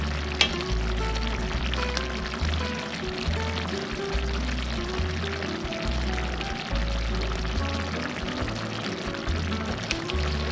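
Fish cooking in sauce for a Filipino sarciado sizzles and bubbles steadily in a pan as it is basted, a continuous close frying hiss with low bubbling throughout and no talking.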